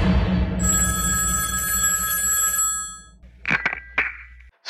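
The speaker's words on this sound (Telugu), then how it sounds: "ఫోన్ మోగింది" A phone rings with a steady electronic ringtone of bright sustained tones for about two seconds, then cuts off, followed by a few brief, louder bursts of sound.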